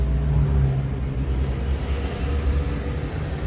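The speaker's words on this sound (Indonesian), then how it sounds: "kita jalan siang hari di kondisi yang cukup ramai lalu lintas" Busy daytime street traffic on Jalan Basuki Rahmat in Palembang, a steady low rumble of passing cars and engines without distinct individual events.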